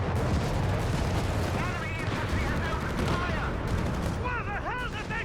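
Booming artillery and rifle fire from a Company of Heroes 3 battle, including a 150mm Sturmpanzer gun, rumble densely and continuously, with chirping battlefield effects and a crowded, loud wartime din throughout.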